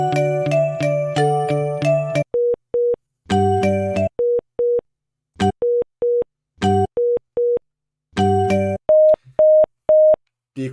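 Linphone softphone calling a FreePBX phone server: bursts of a repeating electronic chime alternate with short evenly spaced ringback beeps and silent gaps, clear and close with no talking.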